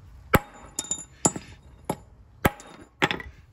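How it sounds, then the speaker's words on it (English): Six sharp, separate hammer whacks ring out at uneven intervals, knocking a part loose from the front brake assembly of a 1994–2004 GMC Sonoma pickup, each strike close and loud with a brief metallic ring and no talking. "You give it a couple good whacks right here and it'll come out."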